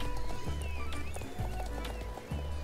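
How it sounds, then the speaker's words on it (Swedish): Gingerbread horse in the online game Star Stable Online gallops with steady clip-clop hoofbeats, and a clear neigh comes over game music and ambience. "Pepparkaks häst."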